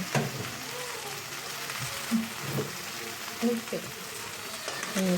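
Ground dried fish being stirred into a vegetable curry cooking in a pan, a steady sizzle with occasional scraping stirs and a voice talking over it.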